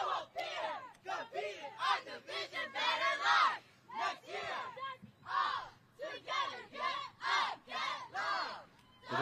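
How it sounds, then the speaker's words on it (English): At a high school cheer championship, a crowd yells HAWKS in repeated loud, rhythmic chants, each burst rising and falling in close succession. "helping the crowd to know when they need to yell that HAWKS"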